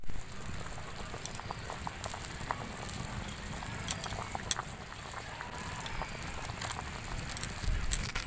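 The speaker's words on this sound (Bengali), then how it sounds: "এদিকে ঝোলটা খুব সুন্দরভাবে ফুটে উঠেছে" Chicken stew gravy with whole small onions bubbling in a pot, a soft steady simmering patter with faint pops and occasional light clicks, fairly quiet and close.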